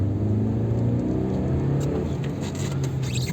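A winter-tyred Honda CR-V accelerating with the throttle floored, a loud, steady engine drone rising in pitch from close inside the cabin, with no talk.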